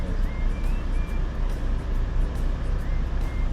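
Cars and large buses squeeze past each other on a narrow road near Vesuvius, with a steady close engine rumble and faint repeating high beeps pulsing above it, loud and continuous.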